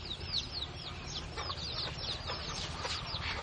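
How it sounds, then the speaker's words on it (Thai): A bantam hen clucks softly and repeatedly nearby, joined by high thin peeping of ducklings chirping in quick overlapping calls. "แม่ไก่"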